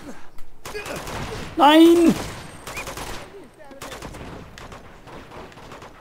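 Enemy gunfire in the video game Uncharted 2, bursts of rapid shots in bursts with gaps between them, mixed with an anguished shout and game sounds, while a player talks over it.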